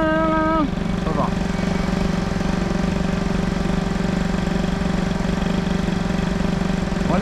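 A boosted Peugeot 103 moped with a Doppler stock engine idles steadily and close by, with a rapid, buzzing two-stroke putter that holds an even pitch across the whole clip while a voice talks briefly near the start.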